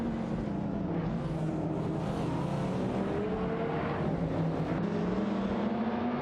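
Racing-game engines of a Shelby Series 1 and a Dodge Viper GTS ACR 99 dueling side by side, a steady droning roar with rising and falling pitch as the cars jostle for position, continuous and moderately loud.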